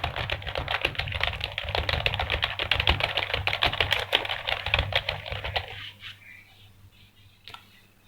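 Rapid, steady clicking of fingers typing on a computer keyboard fills most of the stretch, close and crisp, then stops abruptly, leaving a faint hum with a single stray tap.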